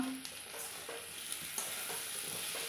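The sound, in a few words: potatoes frying with spices in leftover hilsa fish oil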